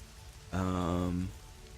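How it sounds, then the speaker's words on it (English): Rain patters as a soft steady hiss behind a tabletop Dungeons and Dragons session set in a swamp, with a brief sustained voice-like tone rising over it midway. "It continues to rain."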